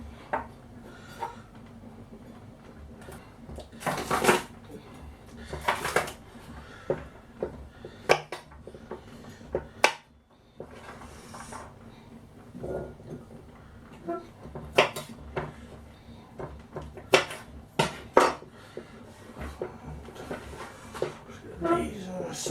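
A knife chopping ingredients on a cutting board while preparing a Thai-style pork rice bowl, with irregular sharp knocks scattered over about twenty seconds, some clustered, amid quiet kitchen clatter and occasional speech.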